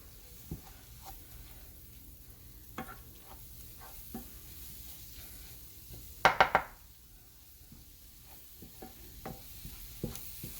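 A flour roux cooks quietly in a pan, with faint stirring scrapes, soft taps and a brief clatter of a utensil against the pan partway through.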